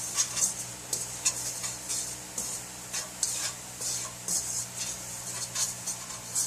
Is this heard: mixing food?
yes